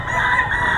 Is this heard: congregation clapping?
no